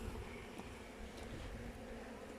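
Honey bees buzz steadily around an opened hive during a beekeeping session, a soft continuous drone held at an even, faint level without talk.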